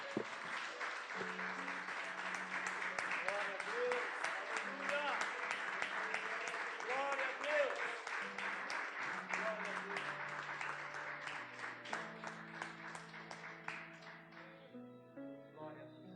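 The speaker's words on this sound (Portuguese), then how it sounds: "Vamos adorar a Deus com uma salva de palmas, irmãos." A church congregation claps together during a Sunday worship service, steady dense applause mixed with organ or keyboard chords and some singing, holding for most of the stretch before thinning toward the end.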